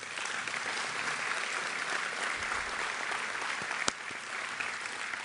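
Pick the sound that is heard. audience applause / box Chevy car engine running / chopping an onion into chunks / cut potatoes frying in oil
audience applause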